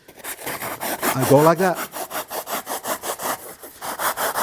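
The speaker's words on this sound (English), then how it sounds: "how do you get those interesting holes in there? I have a drill." A hand drill boring holes, scraping off material in steady, rhythmic back-and-forth strokes, close and fairly loud, with a brief spoken voice near the start.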